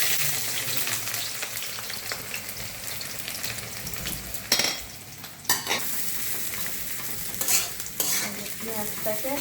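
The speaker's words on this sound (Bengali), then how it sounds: "পেঁয়াজটাকে হালকা ব্রাউন করে নেবো" Onions sizzling and frying in a pan while being stirred, a continuous loud hiss broken by a few sharp scrapes and clanks of the spoon, close and without talk.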